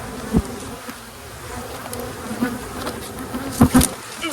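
Honeybees hum in a steady close swarm around an open hive, with a few louder buzzes as individual bees pass near.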